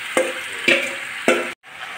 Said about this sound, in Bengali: আমি চিকেনটা চাপা দিয়ে দিয়ে নেড়ে চেড়ে চেড়ে ভালো করে কষিয়ে নেব।